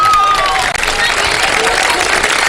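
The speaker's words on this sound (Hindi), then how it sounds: "उनके लिए बहुत सारी तालियां बजा दें एक दफा" A television studio audience claps loudly for a live broadcast program, dense steady applause filling the whole moment, with a host's voice briefly audible over it at the start.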